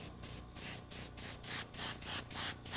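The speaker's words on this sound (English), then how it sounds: "The airbrush I'm using here is a micron," An Iwata Micron airbrush sprays paint in a steady series of short hissing bursts, about nine evenly spaced pulses, close and alone without talk.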